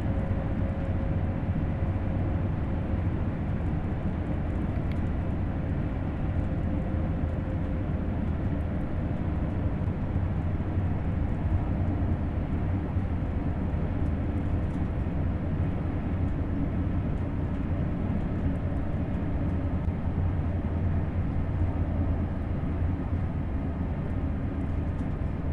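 Train in Train Sim World 2 on the Munich–Augsburg main line, slowing for a train ahead: a steady, continuous low rumble and hum of the moving train, even in level throughout with no talk.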